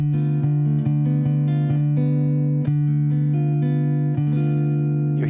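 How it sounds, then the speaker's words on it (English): A minor sixth chord on a jazz guitar, struck repeatedly in a loose rhythm, each strum ringing with sustained tones and clear pick attacks, close and alone. "And it's a minor 6th chord."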